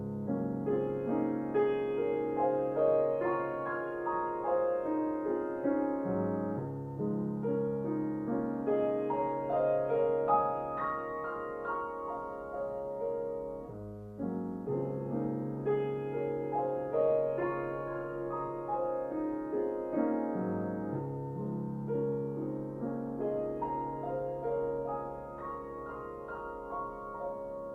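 Debussy's Reflections in the Water plays on solo piano with tempo rubato, the phrases swelling and easing in a flowing, freely paced way. The resonant, sustained chords and arpeggios sound clear and close, with no talking over them.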